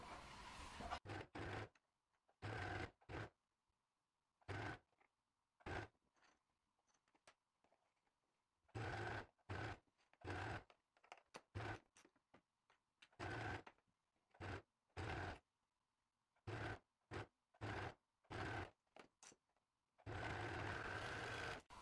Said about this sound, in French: à la surjeteuse, et pour l'autre côté je le ferai à la machine à coudre